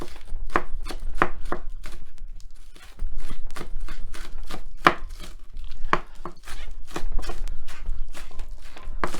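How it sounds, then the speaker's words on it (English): A knife chops green onion on a cutting board in quick, sharp, close strikes, several bursts with short pauses between them, and no voices. "Now for the green onion, I typically like splitting it in half"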